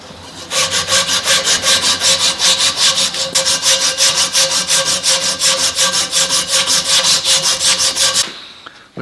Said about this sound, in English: Now I'm just using sandpaper to smooth out the edges.